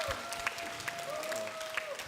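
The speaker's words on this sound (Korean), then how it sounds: "우리 다시 한번 우리 감사의 박수 한번." A church youth group audience gives thanks with applause at an Easter service, sustained, fairly soft clapping heard from across the room, with a few louder claps poking through a steady background.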